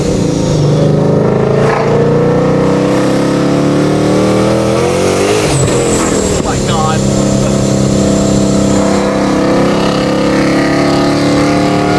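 Freshly washed car out on its first drive: a continuous loud engine drone with rising and falling revs and road noise for the whole stretch, a brief higher whine partway through.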